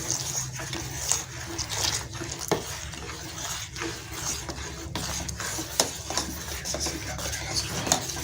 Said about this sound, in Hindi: अब इसके अंदर हम कस्टर्ड पाउडर वाला दूध इसमें शामिल करते जाएंगे और तेजी से चम्मच हिलाते जाएंगे